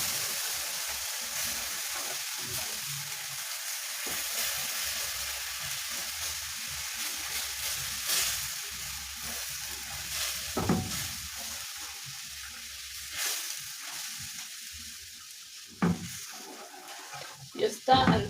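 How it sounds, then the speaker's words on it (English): Milk being stirred into a mushroom sauce in a pan, a soft continuous sizzle with occasional spoon scrapes and clinks near the end, no talking. "You stir until everything is well incorporated."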